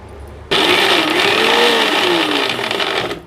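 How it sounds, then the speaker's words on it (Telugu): A mixer grinder blending coriander whirs loudly and steadily after switching on abruptly, its motor pitch rising and falling slightly as it blends. "మిక్సీ పెట్టాలి"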